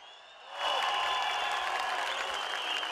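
A rally crowd at a public gathering in Eskişehir breaks into loud, sustained applause for farmers and producers, the clapping surging in after a brief quiet start and holding steady as a dense wash of many hands.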